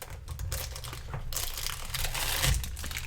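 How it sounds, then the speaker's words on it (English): Paper lunch bag crinkling and rustling close by, a steady crackly handling noise running throughout with a firmer crunch near the end. "sorry about the crinkling"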